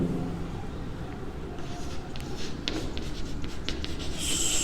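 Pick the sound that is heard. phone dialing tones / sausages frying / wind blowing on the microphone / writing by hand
writing by hand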